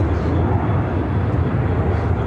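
China Cargo Airlines Boeing 777 freighter taking off at Chicago O'Hare, a heavy, steady low jet-engine roar dominating the low end, loud and continuous.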